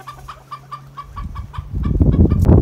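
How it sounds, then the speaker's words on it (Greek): A chicken gives a rapid run of sharp, repeated alarm clucks at a steady pulse, joined by rising rustling and louder background noise toward the end. "Τρώμαξε ίσως με το κοτόπουλο που έβγαλε σινιάλο κινδύνου."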